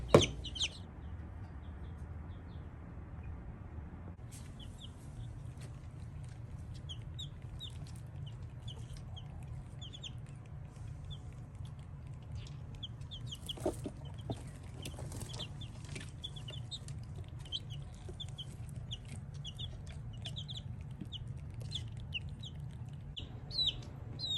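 Young chickens kept indoors in a kitchen at night cluck and peep busily, with many short, bright calls repeating over a low steady hum, and no speech.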